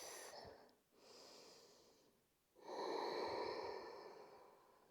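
Slow breaths during a morning yoga flow, a soft airy inhale followed by a longer, louder exhale, close and steady with no talking.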